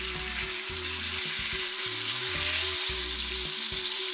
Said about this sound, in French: il ne reste plus qu'à faire revenir dans du beurre et de l'huile notre petite ballotine